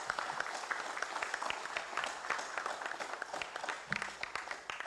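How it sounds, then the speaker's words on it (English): Steady, moderate applause from an audience at a school athletics championship launch, honouring the event officials, with crisp clapping throughout. "loud round of applause."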